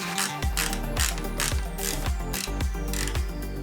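Screws being driven into a 3D-printed tool holder with a ratcheting driver, loud close clicking and rapid ratchet pawl ticks repeating steadily throughout, with no speech.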